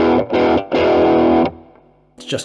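Distorted electric guitar chords through a Keeley Katana Blues Drive overdrive pedal with its bass boosted ring out in short bursts, thick and fuzzy, then fade before a brief final strum.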